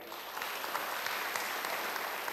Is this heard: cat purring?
no